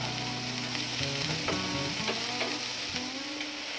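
Beans, capsicum and carrot sizzle in a hot pan with onion, a continuous loud frying hiss broken by a few sharp stirring clatters and scrapes.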